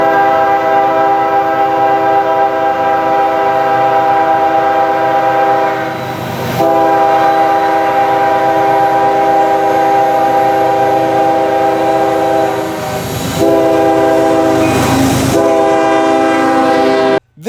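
A passing train gives a long horn show, sustained loud chord blasts held for many seconds with brief breaks and rail rumble underneath, close by.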